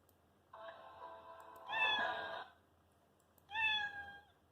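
Scratch cat sprite meow sound effect playing twice, a longer meow followed by a shorter one after a pause, clear and close with no talking.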